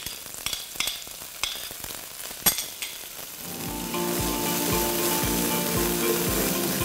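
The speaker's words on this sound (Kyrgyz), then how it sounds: "Андан кийин биз пиязды кууруп алабыз бир аз." Onions fry in vegetable oil in a pan with a steady, dense sizzle that builds up after a few clicks and clatters, joined by a repeated low thump as the pan is stirred.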